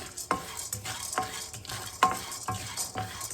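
Chana dal and peanuts roasting in a pan, a spoon or spatula scraping and clinking against the metal about twice a second with a faint dry sizzle beneath.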